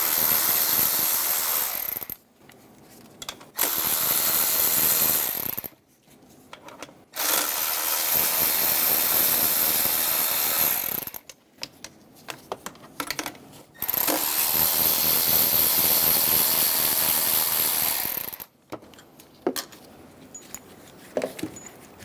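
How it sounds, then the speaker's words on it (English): Ratchet with a 12mm socket undoing throttle body bolts and nuts on a 2003-2007 Honda Accord 3.0L V6, rapid clicking bursts lasting several seconds each, separated by short silent pauses, close and loud. "Using a 12mm socket, remove the two bolts and two nuts for the throttle body."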